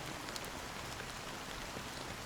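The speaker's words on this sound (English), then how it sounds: "So, how long has this rain been going on for?" Rain falls in the video game Honkai Star Rail as a faint, even hiss of drops and patter that runs steadily on its own without any talking.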